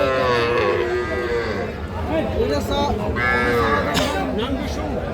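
Cattle, small bulls and heifer calves, moo repeatedly at a market, several long low calls overlapping amid a busy crowd of people talking nearby.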